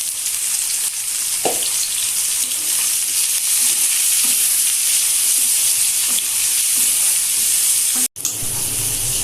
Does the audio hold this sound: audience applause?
no